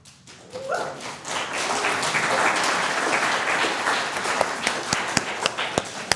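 A church congregation at Sunday worship breaks into applause that swells quickly into a dense, steady wash of clapping, then thins toward the end into a few louder scattered claps.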